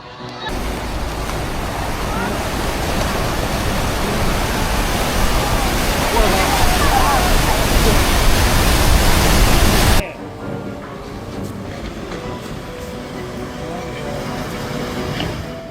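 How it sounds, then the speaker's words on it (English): Huge ocean waves pound the coast at Santa Cruz, producing a loud, continuous broadband roar of crashing surf that drops abruptly to a quieter, steady wash partway through. "Massive waves in Santa Cruz show how quickly the ocean can turn violent."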